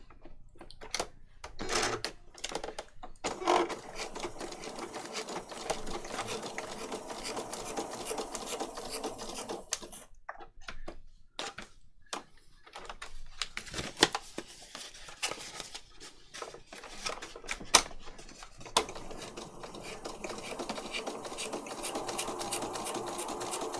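A sewing machine stitches through paper patchwork in rapid, rattling runs, stopping and starting several times with short pauses between bursts, close and steady.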